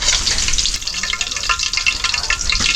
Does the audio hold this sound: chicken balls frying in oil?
yes